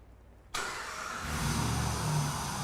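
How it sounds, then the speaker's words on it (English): A car engine cranks and catches about half a second in, then settles into a steady, loud idle that swells slightly as it runs, with a sucking intake note on a vehicle being diagnosed in a repair shop. "Jim, can you go ahead and start this thing up"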